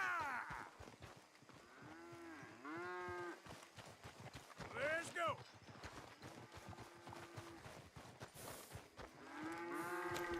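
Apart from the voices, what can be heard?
cattle mooing in Red Dead Redemption 2 video game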